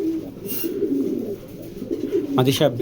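Racing pigeons coo at a pigeon farm: soft, repeated low coos close by, with a brief higher flutter near the end and faint background murmur.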